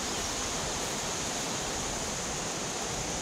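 Strong, steady rush of water from a flowing spring stream and small natural waterfall in Konkan, a dense continuous wash close by with no voices.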